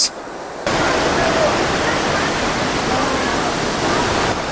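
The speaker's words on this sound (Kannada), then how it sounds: "ಈ ಫಾಲ್ಸಿಗೆ ನೀರು ಬರ್ತಾ ಇರೋದು ಇಲ್ಲಿಂದನೇ" Water rushes toward Honnammana Halla waterfall near Chikkamagaluru, a loud, dense, continuous roar of flowing water filling the scene close by, starting abruptly after a brief quieter moment.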